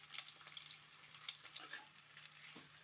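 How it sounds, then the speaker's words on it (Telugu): Bitter gourd slices deep-fry in a little oil with a soft, continuous sizzle dotted with light pops and crackles, faint and close, with no talking. "ఇవి బ్రౌన్ కలర్ వచ్చేదాకా కొంచెం డీప్ ఫ్రై చేసేసుకుంటే అయిపోతుంది"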